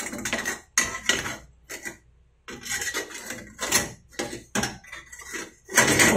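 Metal gas stove cover clattering and scraping while being fitted into place, with a series of loud, bright metallic clanks and rattles in irregular bursts separated by short pauses.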